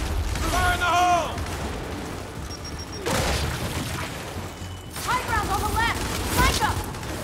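A frag grenade blast and gunfire in the video game Gears 5, heavy booming bursts and rattling shots amid battle noise, loud and close, with game character voices shouting over it.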